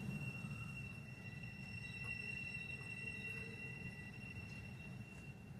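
Freight train wheels squeal around a bend with sustained high-pitched tonal screeches layered over a low rumble of rolling cars, distant and faint, continuing steadily.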